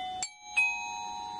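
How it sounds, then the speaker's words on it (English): A page-turn chime for a read-along picture book, a clear two-note ding-dong with a bright strike followed by a second tone that rings on and slowly decays, heard alone. "when you hear this chime"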